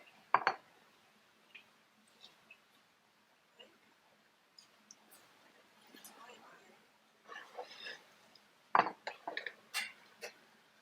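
Garlic parmesan chicken bowtie pasta being plated, with a crisp clink of dishware near the start, soft scattered taps in between, and another sharp clink followed by light clattering toward the end, all quiet and close.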